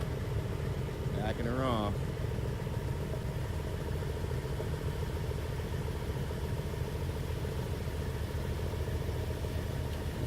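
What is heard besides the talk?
V10 engine idling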